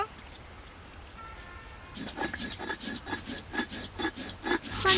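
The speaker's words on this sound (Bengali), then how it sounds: "আমি মশলাটা বেটে নিব প্রথমে চালগুলো বেটে নিব" Soaked rice is ground by hand on a flat grinding stone, starting quietly and then breaking into steady, rhythmic scraping strokes of stone rubbing on stone, close and fairly loud.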